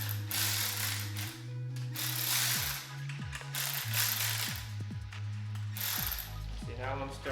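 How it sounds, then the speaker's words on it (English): A small hand ratchet works a fastener during a BMW E36 M3 S52 engine teardown, giving repeated close clicking strokes in short bursts between brief pauses, with a steady hum running underneath. "So I have a little small little ratchet. And just go little by little."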